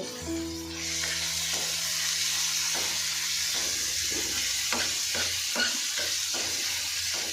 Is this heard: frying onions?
yes